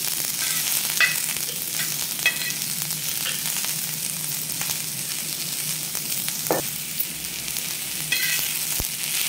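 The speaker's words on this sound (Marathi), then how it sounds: "थोडंसं तेल टाकलेलं आहे आणि आपण आता याला भाजून घेऊ।" Misal ingredients roasting in a little oil in a pan, with a soft steady sizzle and occasional scraping stirs and light clinks of the spatula, close and fairly quiet.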